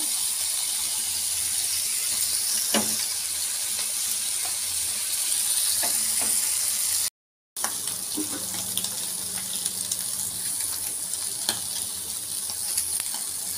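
Fish, nethalla, frying in oil, a steady loud sizzle and crackle filling the whole stretch, with a brief gap near the middle.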